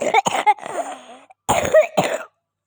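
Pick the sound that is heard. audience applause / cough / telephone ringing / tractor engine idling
cough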